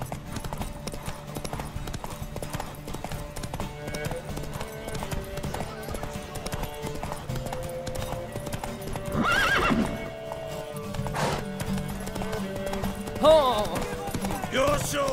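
Horse hooves clip-clop steadily through a race in The Witcher 3, a horse whinnying near the middle and again toward the end, set against game music and ambient noise with no talking.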